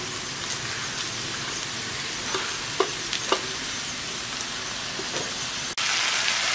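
Cabbage frying in a hot pan gives a steady, fairly loud sizzle with a few brief clinks and scrapes, then a sharp drop near the end before the hiss resumes.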